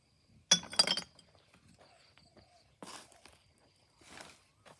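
Glass drink bottles and milk bottles clink together in a sharp cluster of bright knocks near the start, followed later by a couple of softer rattling shuffles, close and with no voices.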